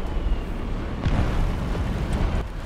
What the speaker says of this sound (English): I love using the coaxial 100mm cannon this one.